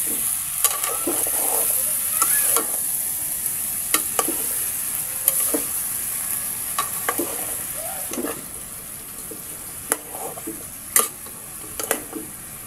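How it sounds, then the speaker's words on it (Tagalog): Chicken feet adobo stirred in a pan, a steady soft sizzle with scattered light clicks and scrapes of a utensil against the pan, close by, with no voices. "Haluin ulit natin."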